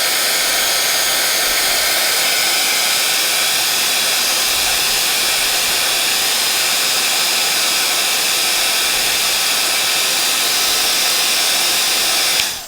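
A heat tool blows a steady, loud, hissing whoosh while melting baked-texture embossing powder, running continuously and cutting off abruptly at the end.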